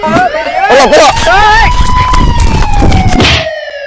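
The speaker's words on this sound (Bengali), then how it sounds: "পুলিশের গাড়ি আসছে" Police car siren in a comedic robbery skit, a drawn-out wailing tone rising and slowly falling over several seconds, partly masked by loud excited voices talking over it.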